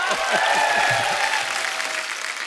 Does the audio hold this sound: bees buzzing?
no